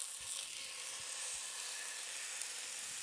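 A haddock steak, already coated in oil, sizzles steadily in a hot dry pan, a constant close hiss of frying with a few faint low knocks underneath.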